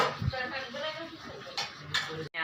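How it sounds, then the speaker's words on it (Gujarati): Dishes being washed by hand, soft clinks and scrapes of pots and utensils close by, with voices talking over them. "અને આ વાસણ ધોવે છે હજી."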